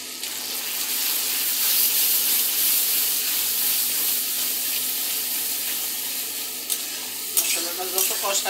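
Spice masala with red chilli powder, coriander powder and tomato sizzles steadily in a pan while being stirred, a loud continuous hiss with scraping stir strokes toward the end.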